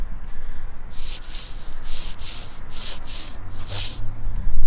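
A worn, failed wheel hub bearing, spun by hand with a microphone held right against it, gives a series of rough, gritty grinding pulses, about seven in a row, loud and close over a steady background rumble.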